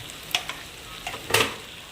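Spices for dal tadka, including garam masala, coriander-cumin powder, hing and turmeric, sizzle in hot oil at home, a soft steady fry broken by a few sharp stirring scrapes close by.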